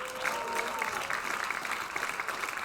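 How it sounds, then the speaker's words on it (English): Audience applause at a Global Game Jam 2020 final presentations event, a steady wash of clapping from a crowd that holds evenly for a few seconds, moderately loud, with faint voices mixed in. "please give them an extra helpful hand of applause"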